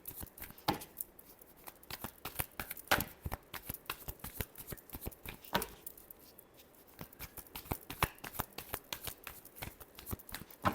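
Tarot cards are shuffled continuously and close up, a dense, uneven patter of papery flicks and slaps over about ten seconds, with no talking.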